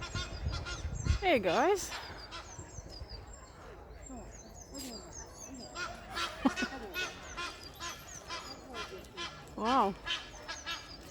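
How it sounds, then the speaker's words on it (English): Egyptian geese honk loudly and repeatedly in a cedar tree in a London park while crows squabble with them, raucous overlapping calls in bursts, with a person briefly speaking. "the crows are fighting with the Egyptian geese in the cedar tree"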